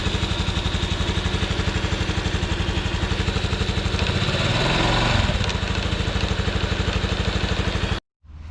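A Honda NBC110 motorcycle engine, fitted with a big bore kit, idles in cold weather with a steady, even, close putter for about eight seconds before cutting off abruptly.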